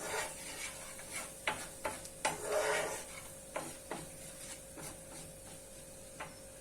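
A spoon stirs ingredients in a frying pan while making a Turkish breakfast dish, giving soft scraping rubs and intermittent light taps against the pan over a faint sizzle, with no talking.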